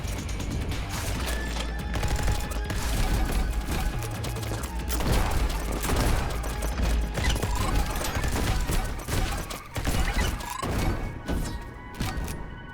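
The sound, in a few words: gunfire shooting enemies in video game Neon White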